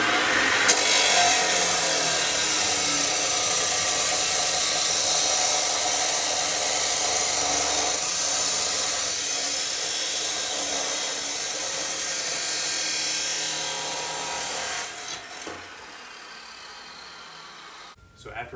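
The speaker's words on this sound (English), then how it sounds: "I decided to cut 2 pieces at 6 feet in length for the vertical" Lumber being cut into six-foot pieces for painting racks, a loud continuous power-saw whine holding steady for most of the stretch before stopping near the end.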